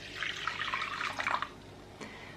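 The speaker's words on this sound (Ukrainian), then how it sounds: "Беремо 250 мл теплої води" Water pours in a short, soft splashing stream for about a second and a half, followed by a single faint drip.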